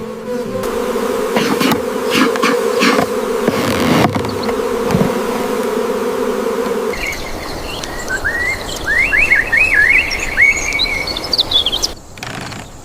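Honey bees buzz steadily around a hive colony on an isolated farm, a close, continuous drone, with birds chirping in the background during the later part.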